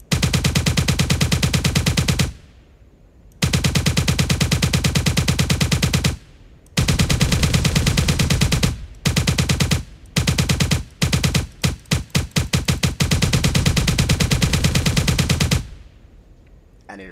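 A rapid-fire gun in the game Zerahypt shoots in long continuous bursts, loud and close, broken by a few short pauses and a stretch of choppy, stuttering shots near the end.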